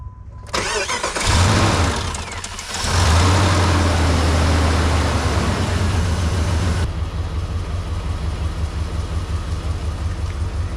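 A Jeep Grand Cherokee WJ with a 4.7 liter V8, just fitted with a new starter, cranks briefly, then catches and roars to life before settling into a steady, loud idle.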